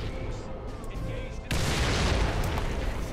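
Artillery fire in a Warhammer-style strategy video game, a sudden loud burst of booming shots that begins partway through and keeps rumbling densely over a quieter game backdrop.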